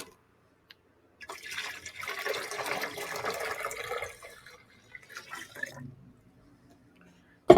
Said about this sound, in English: Now we're going to add 2 quarts of water to that.